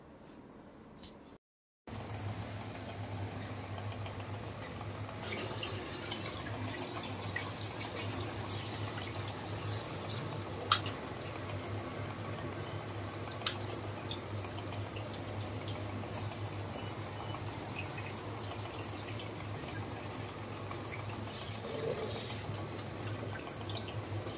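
Water runs steadily from a kitchen tap fitted with a new attachment, a continuous close hiss and splash that holds even for over twenty seconds after a brief quiet start, with no talking.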